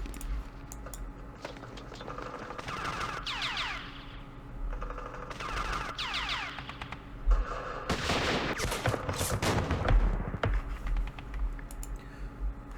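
Gunfire in the war game Campaign Series Vietnam: bursts of rapid, crackling shots and rattling volleys come in several waves, with a longer, denser burst near the end over a steady low background hum.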